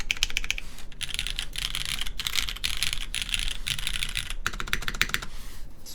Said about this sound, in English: It sure sounds like a keyboard, all right.